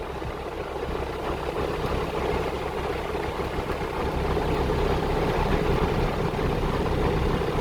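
A tractor engine runs during wheat sowing in a field, a loud, steady low rumble that holds constant and grows slightly stronger toward the end, with no talking.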